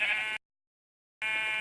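Blocky video-game sheep in a swamp world bleating twice, a loud wavering cry cut by a short silent gap before a second identical bleat.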